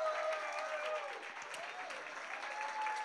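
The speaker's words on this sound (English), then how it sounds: "can we please have a round of applause for Jerry for all that they've done this eve" Audience applause at a Pride event, a steady, dense wash of clapping that fills the whole stretch evenly, with a faint voice or two mixed in under it.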